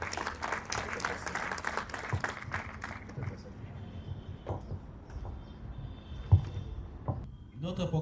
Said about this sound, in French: Applaudissements pour l'officier.